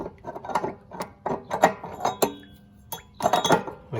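A 7/8 inch socket is fitted onto the hex nozzle at the back of a Suburban RV water heater, giving a string of close metallic clinks, ratcheting clicks and scrapes in irregular bursts, with no talking.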